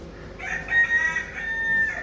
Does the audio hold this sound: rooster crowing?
yes